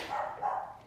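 A pet dog indoors barks at people passing outside, two quick, fairly close barks in a row.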